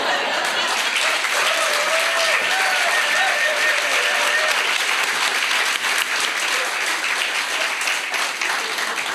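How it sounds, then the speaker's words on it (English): An audience at a live podcast recording gives a sustained round of applause. The dense, even clapping stays loud and unbroken from start to finish. "Let's give another big round of applause."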